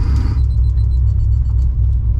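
An R34 Nissan Skyline's engine idles with a deep, steady low rumble, close and constant throughout, with a faint high whine and a few brief ticks above it.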